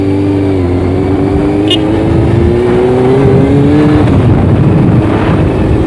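A 600cc motorcycle accelerates hard from a rider's own position, its engine note rising steadily through the revs, loud and close with heavy wind rush, and a brief voice cutting in partway.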